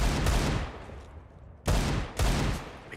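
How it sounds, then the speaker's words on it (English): AWP sniper rifle fire in a Counter-Strike match: three loud, sharp cracks, the first at the start and two more close together near the end, each trailing off in a ringing echo. "you could just hear, I mean, just the op shots just echoing"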